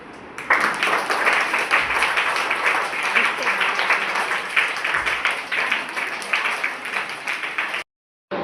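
Steady, dense applause from an audience at a Teachers Day school function as a child presents a flower bouquet to a teacher, close clapping that runs for several seconds and then cuts off abruptly.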